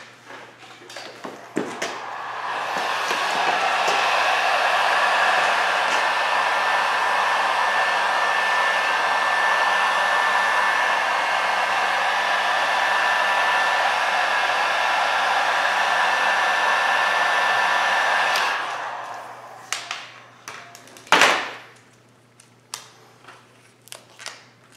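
A heat gun runs steadily for about sixteen seconds, warming a Vvivid carbon fiber vinyl wrap before it is peeled off, with a loud even blowing hiss that cuts off and leaves faint handling noises.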